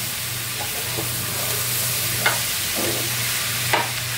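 Cabbage frying in a pan gives a loud, steady sizzle close by, broken by a few light scrapes and stirs, with no talk.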